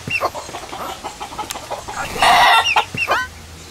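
Chickens clucking close by, a series of short, sharp bursts with one louder squawk in the middle, loud and clear with no talk over them.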